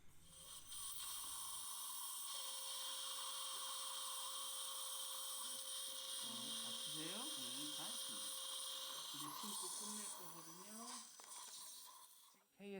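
A dental implant guide drill runs during final osteotomy drilling with saline irrigation, a steady high whine with hissing spray and suction; the motor pitch wavers and dips toward the end.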